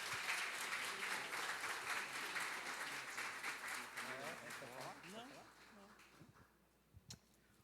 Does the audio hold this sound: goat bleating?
no